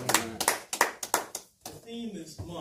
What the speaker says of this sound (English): let's give her a round of applause for her life and legacy